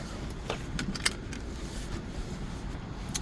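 Inside a Genesis GV70 EV, a seatbelt is pulled across and latched, producing a few sharp metallic clicks and rattles over a low cabin rumble, close by and without speech.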